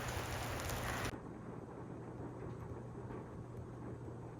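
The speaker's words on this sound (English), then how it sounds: "It's raining even harder" Heavy rain falls steadily outside a cabin in wet, snowy weather, a dense broadband hiss heard alone at low level, sharper and louder in the first second before settling.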